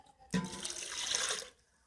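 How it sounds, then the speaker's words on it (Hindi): Two glasses of water poured into a cooking pot of beef, lentils and spices for shami kabab, a single steady splashing pour of about a second, close and clear with no talking. "अब इसके अंदर आप 2 गिलास पानी ऐड करेंगे"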